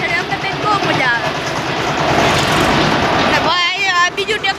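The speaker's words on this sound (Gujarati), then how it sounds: "બીજું ટ્રેક્ટર આવે છે બીજું જોવો" A tractor passes on a farm road, its loud, continuous engine rumble and broad mechanical noise running under someone talking close by.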